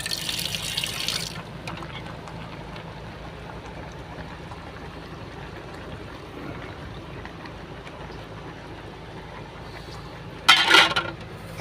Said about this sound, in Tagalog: Tubigan ko ng konti.